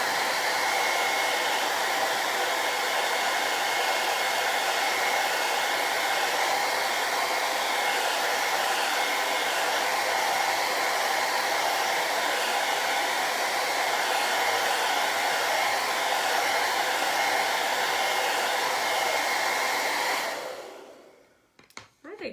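A hair dryer drying a Chalk Couture craft project runs steadily at close range with a constant, even whoosh for about twenty seconds, then cuts off.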